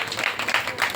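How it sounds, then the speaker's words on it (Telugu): An audience at an event claps to welcome an honoured guest, Sambasiva Rao, a former government hospital director. The applause is a brief, moderately loud wash of hand claps. "చప్పట్లు కొడుతూ వారికి"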